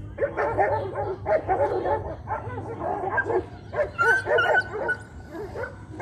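A pack of stray dogs barking and yipping near a kindergarten, with repeated overlapping barks and whimpers at moderate distance over a low background hum, while a voice speaks underneath.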